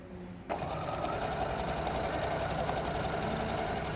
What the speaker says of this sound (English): the machine is pulling it through, then it totally bunches up the mesh underneath